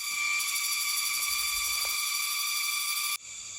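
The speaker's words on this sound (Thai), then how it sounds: "อันนี้ก็เป็นเสียงของจักรจันป่านะครับ เสียงดังมาก" Loud forest cicadas in Kaeng Krachan National Park drone in a dense, steady high-pitched buzz that fills the air continuously, with a brief drop in intensity near the end.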